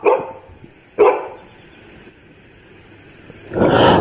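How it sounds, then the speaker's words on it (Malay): A dog barks twice, about a second apart, fairly close, followed by quiet and then a rising rush of noise. "rusa terdengar seekor anjing menyalak"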